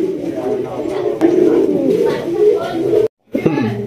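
A pair of Kalangi Rajgolla pigeons coo in low, rolling repeated calls close by at a pigeon market, overlapping with someone talking, then a brief gap and another coo.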